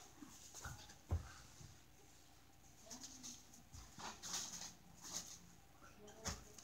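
A stuck dog lets out a few soft, scattered whimpers and whines at close range over a quiet room background, with brief rustling between them.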